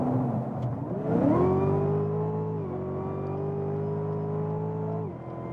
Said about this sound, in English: So what do you think about the acceleration here of the CTS-V?